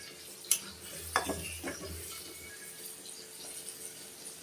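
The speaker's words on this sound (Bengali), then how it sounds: "এদিকে মশলা কষলা কষাতে কষাতে আমি আলুগুলো দিয়ে দেব" Spices being sautéed in a pan with Chandramukhi potatoes added, for a boal fish curry with tomato: a soft steady sizzle with a few sharp clinks and scrapes of stirring near the start, then a quieter fry.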